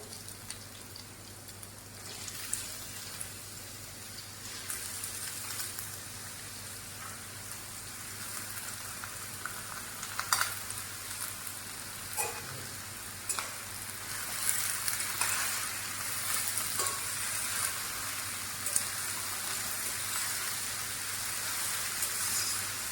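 Potatoes fry in a pan with onions, giving a steady, close crackling sizzle throughout, scattered with small pops and spits. No one speaks.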